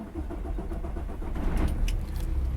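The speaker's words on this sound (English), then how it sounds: "turn the truck on," A 2019 Kenworth T680 semi truck with an MX13 engine cranking and starting, a close low mechanical rumble that builds over a couple of seconds.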